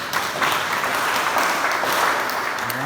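A church congregation applauds the pastor during an evening service, a steady, fairly distant wash of clapping that holds at an even level throughout.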